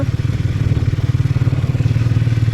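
A motorbike rides on a long trip from Hyderabad to Yadagirigutta, its engine throbbing in a steady low pulse up close along with road rumble and wind.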